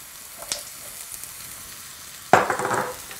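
Garlic goes into a pan of hot oil with onions for a mushroom curry. After a faint, quiet stretch with one small tap, a sudden sharp sizzle bursts out and fades over the last second.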